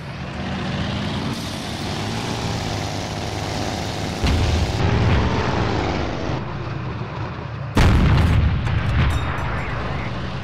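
Tank cannon fire in an online tank battle game comes as heavy booming blasts over a constant engine rumble, loud and close, with sharp jumps in intensity where shots land.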